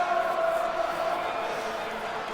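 Wrestling fans in the WWE 2K26 video game sing together as a crowd, with no music behind them, forming a steady, sustained chant that fills the whole moment at an even volume.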